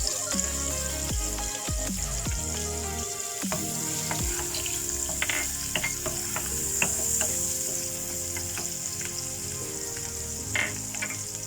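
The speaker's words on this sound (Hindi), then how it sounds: "इसको फ्राई करते हैं कि ये लाइट ब्राउन कलर का हो जाए" Chopped garlic frying in butter for butter garlic prawns, a loud, steady sizzle with the clinks and scrapes of a utensil stirring in the pan, and no talk.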